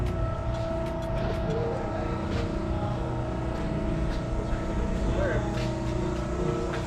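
A car exhaust with newly fitted Flowmaster mufflers and dump-down tips rumbles at a steady idle, loud and close, a deep continuous drone with someone talking over it.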